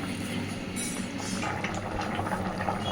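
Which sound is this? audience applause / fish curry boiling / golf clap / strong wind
fish curry boiling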